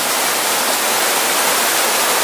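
A waterfall drops from a great height onto rocks in a forested hill gorge, making a loud, steady, dense roar of falling water that fills the whole moment without a break.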